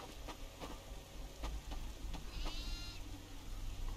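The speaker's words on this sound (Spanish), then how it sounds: "Y acabo de escuchar una oveja por aquí." Faint sheep bleats in a video game, a short wavering call heard a few times over a steady background of rain-like noise and light ticking, distant and quiet, with no talk.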